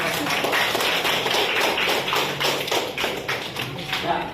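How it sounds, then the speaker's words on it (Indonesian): Students in a classroom clap their hands together in a steady, lively burst of applause that stays loud and continuous throughout, with scattered voices mixed in. "Oke, tepuk tangan."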